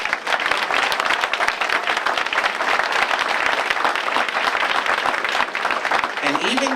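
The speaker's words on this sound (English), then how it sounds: "So I would like you to give them a round of applause." A crowd at a mayor's speech breaks into steady, full applause for local firefighters, loud and continuous throughout, tapering slightly at the very end.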